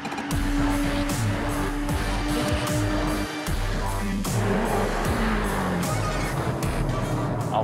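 A Porsche 911 is revved hard on the road, its engine note rising and falling through repeated climbs, loud and close from inside the car.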